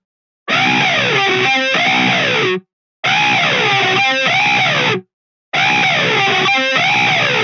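Heavily distorted electric guitar played through a wah pedal for a distinctive tone, in three loud, sustained bursts separated by short silences, each with sweeping, ringing high overtones.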